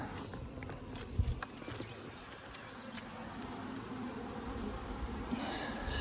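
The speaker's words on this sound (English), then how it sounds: "the bees are going crazy" Honeybees swarm busily around a backyard hive on a warm spring day, a continuous low buzzing hum with scattered nearer passes and light rustling and footstep-like handling noises.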